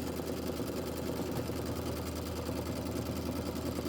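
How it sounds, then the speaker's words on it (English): A sewing machine stitches out a quilt block with a steady, fast, close mechanical whir and hum that runs unbroken, with no talking. "So we're stitching this one out right here."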